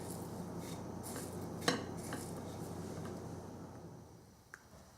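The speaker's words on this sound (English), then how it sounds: "dip to the panko" Pork cutlet pressed into panko breadcrumbs in a bowl for tonkatsu, a soft steady crumbly rustle with one sharp clink of a utensil against the dish partway through, close and alone.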